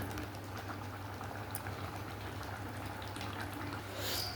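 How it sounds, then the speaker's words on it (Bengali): A pan of prawn curry at a steady boil, bubbling and popping continuously up close, with a brief brighter hiss near the end and no voices. "এটা আরও একটু ফুটিয়ে নেব একটু ফুটে যাক"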